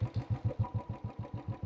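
A Royal Enfield Classic 350 ABS motorcycle engine idling close by, with a steady thumping beat of about five even pulses per second and no voices.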